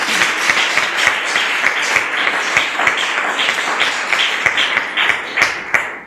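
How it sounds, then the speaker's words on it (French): A church congregation applauds the Lord with loud, sustained clapping, many hands together in a steady roar with a few sharper individual claps, and no talk over it. "Tu peux acclamer le Seigneur."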